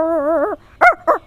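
A man imitates a puppy with vocal mimicry: a wavering high whimper followed by three short yipping cries, close and clear with no other sounds.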